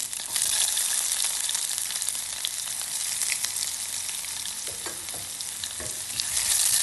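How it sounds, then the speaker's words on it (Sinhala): Onion and garlic frying in hot coconut oil, a dense continuous sizzle with stirring scrapes, loud and close, with no voices. "ඊට පස්සේ ලුණු සුදු ලුණු ටිකත් අපි එකතු කරගමු."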